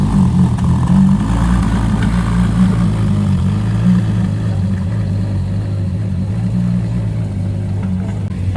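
A McLaren Speedtail and other auction cars pulling out of the Portola during car week, a loud continuous engine rumble with low droning tones, close and steady throughout.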